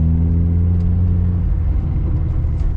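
A Honda Civic EJ9 engine drones steadily at close range from inside the car as it is driven hard around a roundabout, a continuous low rumble with no voices.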